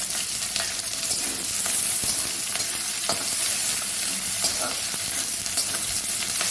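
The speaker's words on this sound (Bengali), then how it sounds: "এইবার পেঁয়াজ বেশি লাল করে ভাজার আগে পেঁয়াজটা কাঁচা লঙ্কাটা দিয়ে দেবো" Chopped onion and green chilli hit hot oil already holding fried garlic, sending up a loud, steady sizzle with scattered stirring scrapes throughout, close up and with no voices.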